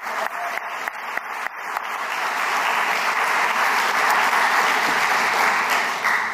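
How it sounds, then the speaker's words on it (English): An audience at a university visiting artists lecture applauds the exhibition sponsors, opening with scattered claps that quickly swell into loud, dense, sustained applause lasting about six seconds. "So let's give all of the exhibition sponsors a round of applause."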